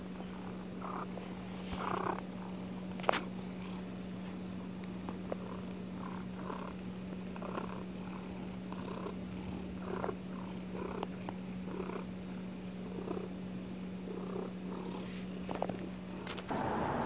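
A cat purring close by, a faint steady low rumble running without a break, with soft rustles and occasional small clicks around it.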